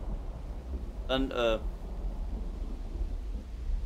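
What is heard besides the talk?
rain and thunder in Uru Complete Chronicles video game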